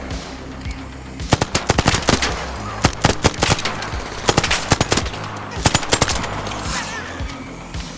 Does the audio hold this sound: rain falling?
no